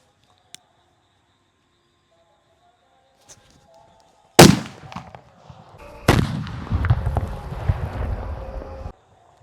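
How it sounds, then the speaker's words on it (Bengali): A sutli bomb firecracker set off for Diwali: quiet outdoor stretch with faint ticks, then a loud sharp blast followed by crackling debris and a second heavy boom with rumbling, sputtering tail nearby. "তো গাইস এই সুতুলি বমটা ছিল আরও ধামাকা।"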